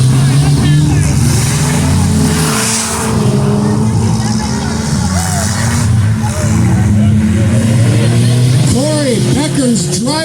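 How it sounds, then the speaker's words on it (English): Demolition derby autocross car revving hard and racing around a short dirt track at Ottertail, loud engine roar rising and falling with other cars passing, under an announcer's continuous commentary. "Beckers driving that machine like it's a 450 sprint car around this short track here in Ottertail"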